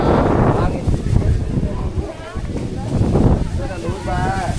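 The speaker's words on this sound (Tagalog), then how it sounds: "Hangin." Wind buffets the microphone on the summit of Fansipan peak near Sapa, Vietnam, with a steady roaring rumble and gusts that swell and ease while people talk nearby.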